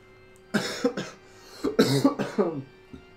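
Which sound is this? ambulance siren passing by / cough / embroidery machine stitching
cough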